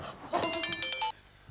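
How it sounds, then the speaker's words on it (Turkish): A mobile phone rings with a bright, repeating electronic tone for about a second, fairly faint, then cuts off. "Nereden geliyor telefonun sesi?"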